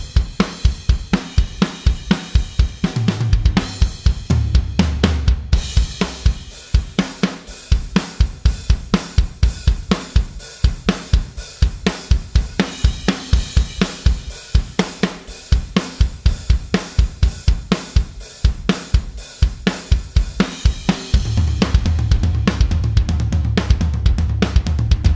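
A drum kit recorded through budget microphones plays a steady groove with punchy kick, snare hits and constant cymbal wash, sounding full but slightly boxy and close-miked.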